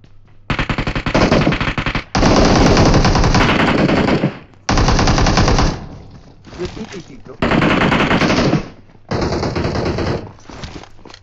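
Bursts of rapid automatic gunfire in a rush-mode battle game, loud and close, fired in several long sustained volleys separated by brief pauses.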